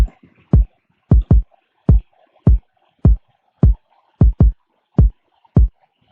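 A rack kick drum loop built in FL Studio: about a dozen punchy, deep kick hits with short tails in a syncopated pattern, loud and isolated, with faint background hiss between hits.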